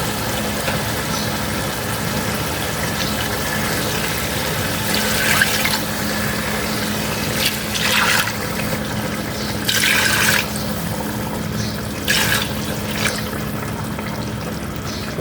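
Water is poured from glasses into a cooking pot for rice in several separate splashing bursts over a low, steady background hum.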